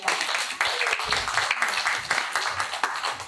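An audience claps steadily at a college graduation rock concert in a live hall, applauding the staff. The applause is dense and sustained, close and fairly loud, with a few voices mixed into it.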